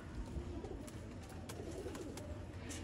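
Red-eyed breeder pair of pigeons cooing softly in a loft, repeated low throaty coos over faint background hiss, no talking.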